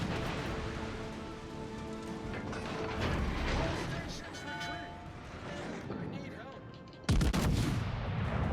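Naval gunfire from a warship's gun in a video game, heard as repeated booming shots and mechanical clatter over a rumbling battle backdrop, with a loud blast bursting in near the end.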